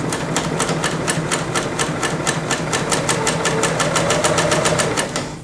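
A Bernina L890 coverstitch machine sews a 3-thread coverstitch with a loud, rapid, even mechanical chatter that runs without pause for several seconds, close by.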